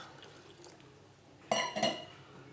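After a quiet stretch, water splashes and pours into a metal pot of mango curry with green beans in two quick bursts, close by and fairly loud.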